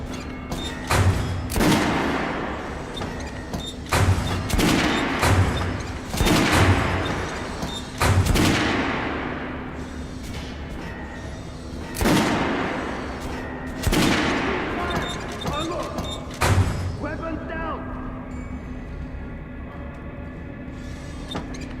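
Video game gunfire in Metro Last Light rings out in repeated heavy bursts of booming shots roughly every couple of seconds, loud and echoing, with shouted voices mixed in and the action easing toward the end.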